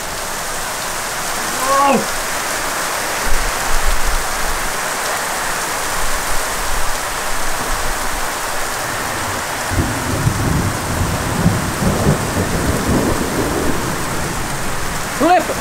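Steady heavy rain pours outdoors on a lawn during a thunderstorm, a loud continuous hiss of drops with rumbling thunder swelling in the latter half; a voice cries out briefly over it.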